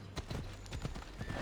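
Horse hooves clip-clop on the ground in Assassin's Creed Odyssey, a steady run of loud, close hoofbeats with a faint whinny, while game ambience plays underneath.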